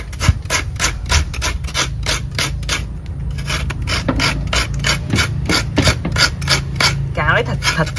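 Fresh coconut meat is scraped by hand on a grater in steady, quick rasping strokes, close and rhythmic, with a voice briefly heard near the end.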